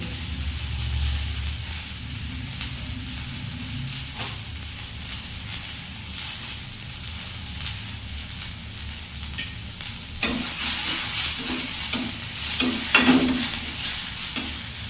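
Spices, two bay leaves, chopped tomato and green chilli fry in hot oil in a pan with a steady, close sizzle, joined later by louder rhythmic scraping as the mixture is stirred.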